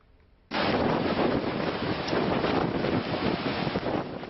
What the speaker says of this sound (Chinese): 冲绳本岛外海掀起狂风巨浪、惊涛骇浪的场面